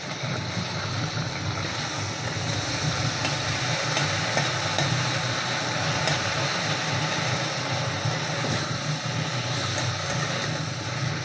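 A paste of ground cumin, coriander and dried chilli with turmeric sizzles steadily in a pan for a fish curry, a continuous close frying hiss with faint stirring scrapes and no voices.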